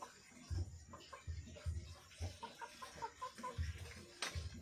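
Native chickens on a Philippine farm, a flock of about twenty, clucking in short repeated low bursts at close range, with faint background noise and a sharper call near the end.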